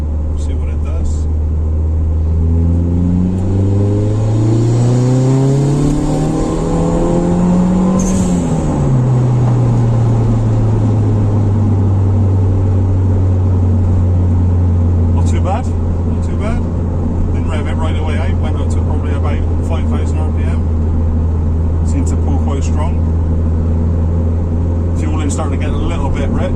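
A turbocharged car pulls hard in third gear, its engine note rising steadily in pitch, dropping briefly at a shift, then droning at a steady loud pitch; a voice talks over it throughout.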